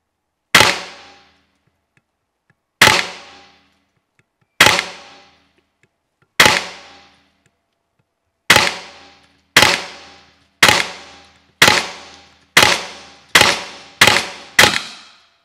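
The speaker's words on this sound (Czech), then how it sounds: "tady tahle zbraň je určena na rychlou semiautomatickou a zároveň přesnou střelbou" Rapid semi-automatic shots from a Kalibrgun Springbook PCP air rifle: about a dozen sharp, loud cracks, first spaced a couple of seconds apart, then quickening into a fast string near the end, with no talk.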